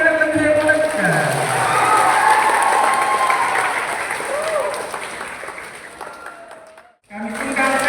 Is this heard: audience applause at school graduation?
yes